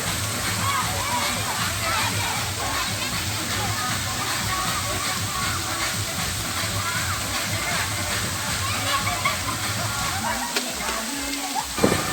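Steady dense spray of water pouring down at a water park rain dance, a constant loud hiss and splash with faint voices mixed under it.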